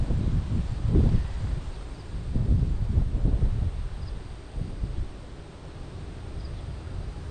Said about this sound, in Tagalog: Laging malakas po ang hangin, no?